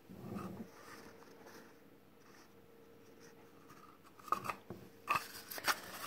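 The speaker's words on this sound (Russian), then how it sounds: "Для этого нам понадобятся ножницы. Вот мы прямо вот так вот отрезаем." Scissors snip through a cardboard toilet paper tube. A soft rustle is followed by several crisp, crunchy cuts in an irregular rhythm, close and moderately loud, with no talking.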